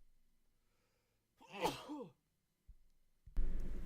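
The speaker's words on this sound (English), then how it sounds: "Just sneezed." A single close sneeze with a sharp burst and a short breathy tail, set against a quiet room, followed after a pause by a louder muffled rustle.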